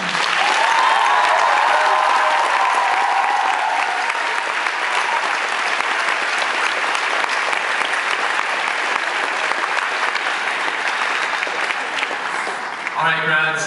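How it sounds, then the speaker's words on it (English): Graduates applauding at a graduation ceremony in a theater, loud sustained clapping from a large group with some cheering early on, continuing without break until a voice briefly starts speaking at the very end. "have a round of applause from the grads in honor of anyone who has helped us arrive"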